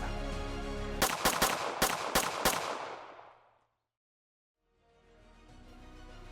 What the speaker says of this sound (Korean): 총 6발 총성이 울리고